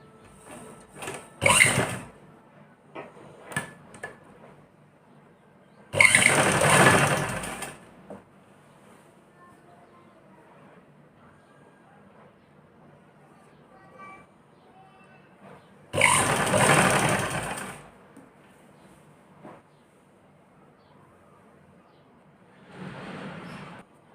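A sewing machine stitches along a suit neckline in short bursts. Three clear runs of rapid whirring are separated by quiet pauses, with a fainter burst at the end.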